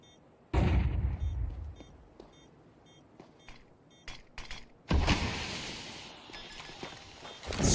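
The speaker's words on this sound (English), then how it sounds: "That's the molly thrown onto the bomb" A molotov is thrown onto the planted bomb in a Counter-Strike pro league match: a sudden loud burst, then a sustained roaring fire swell, with faint repeating beeps and intermittent sharp clicks around it.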